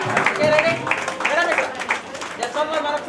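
An audience applauds at an award felicitation during a women's celebration event at a restaurant, a dense, continuous clapping close by, mixed with voices.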